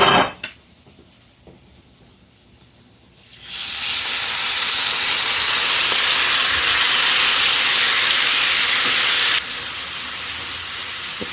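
Shrimps and garlic hit a hot pan on a stove over medium-high heat, bursting into a loud, steady sizzle that holds for about six seconds before easing slightly, after a quiet start.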